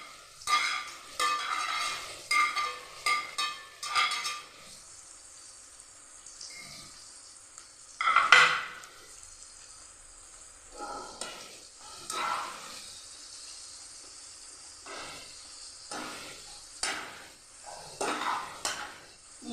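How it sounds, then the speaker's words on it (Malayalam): Sliced onions for an onion thoran sauté in a pan, with bursts of scraping and stirring over a quieter sizzle and some pauses between strokes. "സവോളയൊന്ന് വഴന്ന് വരണം"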